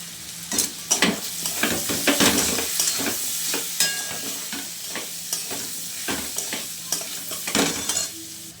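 Turmeric and coconut frying in a pan for ghugni, a sizzling bed under repeated scraping stirs and clinks of a spoon against the metal, close and steady throughout.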